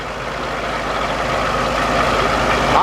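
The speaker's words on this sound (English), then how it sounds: "Here's the power for today. Good looking tractor." A tractor powering a sawmill runs steadily, its engine a loud continuous rumble that builds slightly toward the end, with no talking.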